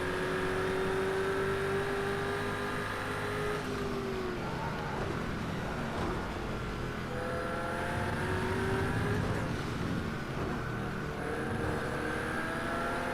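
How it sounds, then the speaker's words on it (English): A BMW 123 followed by two Aston Martins racing, engines droning steadily with rising and falling pitch as the cars run close together, loud and continuous for the whole stretch. "This is a BMW 123, followed by 2 Aston Martins"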